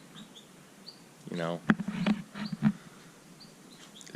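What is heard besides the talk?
birds chirping in the morning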